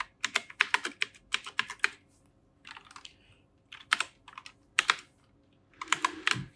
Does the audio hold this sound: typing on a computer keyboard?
yes